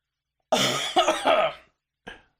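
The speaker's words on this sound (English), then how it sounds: "he just coughed gnarly" A harsh, rasping coughing fit of three or four bursts up close, followed after a pause by one short final cough.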